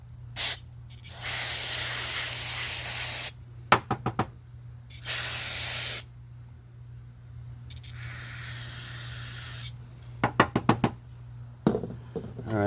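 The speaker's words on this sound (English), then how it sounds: "Carburetor spray." Several long hissing bursts of carburetor cleaner spray on a 21-inch self-propelled lawn mower carburetor, separated by pauses, with sharp knocks and clicks in between under a steady low hum.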